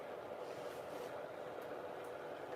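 A train running, a steady close rumble and roar with faint rolling noise, continuous and without talk.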